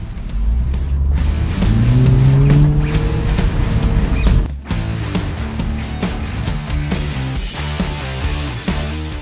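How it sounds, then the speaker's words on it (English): A turbocharged four-cylinder Mini Cooper S Cabriolet, 189 horsepower, drives with the roof down. The engine revs hard and the turbo spools, a blow-off valve chirps, and the exhaust pops as the car shifts and pulls away loudly. "you can really hear all those mechanical noises oh so well. The chirp of the blow-off valve, the turbo spooling up"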